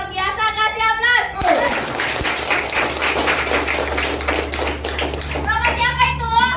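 A group claps and cheers together for a few seconds at an office gathering celebrating a staff promotion to new marketing manager, with someone speaking just before and after.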